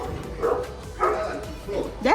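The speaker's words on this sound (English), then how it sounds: "That's a big dog." A big dog barks and yips in short bursts, about four calls spaced roughly half a second apart, fairly near, with voices mixed in.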